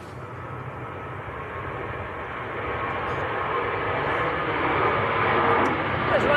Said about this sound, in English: there is an aircraft on the roll